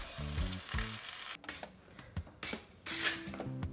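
Yam cooking in a home kitchen pan, faint sizzling with intermittent stirring and scraping clatters, close and uneven.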